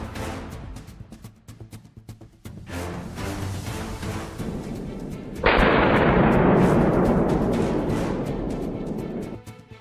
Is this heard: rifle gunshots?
yes